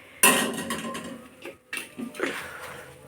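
Pieces of fried chicken are moved from a pan onto a plate, heard as a sharp metallic clink followed by scattered lighter clatters and scrapes of utensils against dishes, fairly close.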